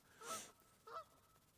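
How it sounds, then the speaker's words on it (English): Two honks from geese at a fishing spot, a longer call followed by a shorter one after a brief pause, moderately loud outdoors. "So here come those geese again."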